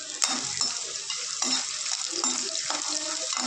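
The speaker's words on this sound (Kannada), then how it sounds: "ಫುಲ್ ಕರಿಬೇವು ಇದೆಲ್ಲ ಫ್ರೈ ಮಾಡ್ಕೊಳ್ಳೋಣ" Garlic, chilli, mustard seeds and curry leaves fry in a pan, a moderate sizzling crackle with soft stirring scrapes and a faint watery hiss underneath, no voices over it.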